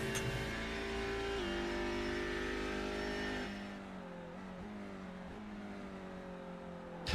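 Audi race car engine in a racing video game, loud and continuous, holding a steady high note before a gear change drops the pitch, then revving on under load at a lower, slightly quieter level with small shifts in pitch.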